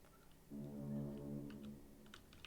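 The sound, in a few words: ship horn honking in a video game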